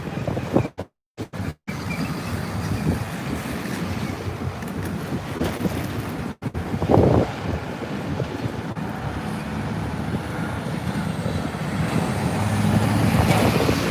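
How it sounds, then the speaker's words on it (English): Wind rushes steadily past the microphone on a cold, windy New York City street in December, a continuous low roar with a few brief dropouts and a slight rise toward the end. "And it is windy, so that makes it even worse"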